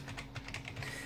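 Rapid typing on a computer keyboard, a quick run of soft, evenly spaced key clicks heard up close and fairly quiet, with no talking.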